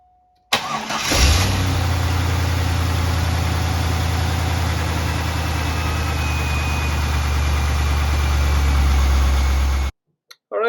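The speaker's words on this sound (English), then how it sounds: "as I was cranking it over and starting the engine" A 1998 Corvette C5 V8 cranks briefly and fires up, then settles into a loud, steady, close idle for several seconds before being cut off.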